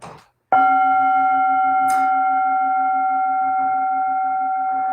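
After a brief pause, a single meditation bell strike rings out clearly and sustains a pure, steady tone that slowly fades.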